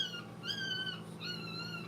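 A five-day-old French Bulldog puppy gives thin, high, drawn-out whimpers, two faint squeaky cries over a low steady background hum.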